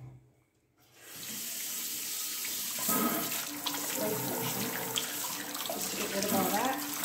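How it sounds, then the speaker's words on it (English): Water from a kitchen sink faucet rinses out an Aqueon 10 gallon glass aquarium tank, a steady close splashing rush that starts after a brief quiet moment and shifts in tone as the stream hits the glass. "so I am using my faucet here"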